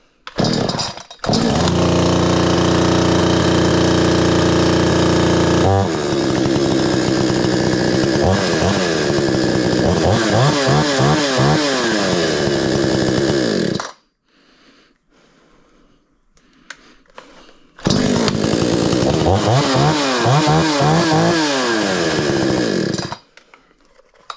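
A gasoline chainsaw that had been sitting unused runs off choke, its engine loud and close. It revs and surges in rising and falling sweeps, cuts out briefly, then roars back up before dropping off at the end.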